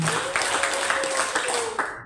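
Teachers playing a clapping game at SMPN 1 Paciran clap along in a quick, evenly spaced run of several claps, loud and close over steady room noise.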